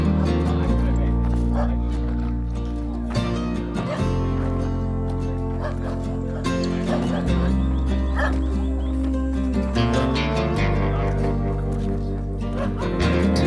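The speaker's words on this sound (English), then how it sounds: "Puppy dog." A puppy barks and yips repeatedly over loud, steady music at an outdoor event, the sharp short barks coming in irregular bursts with a few whimpers, and a voice briefly heard.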